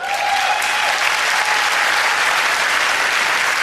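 A hall audience at a comedy gala breaks into loud, sustained applause. A crowded wash of clapping fills the room evenly throughout, and no voice is heard over it.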